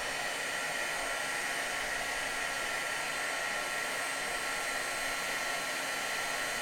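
A heat tool blows hot air over embossing powder on a die-cut piece, a constant loud broadband whoosh like a hair dryer that runs unbroken from start to finish.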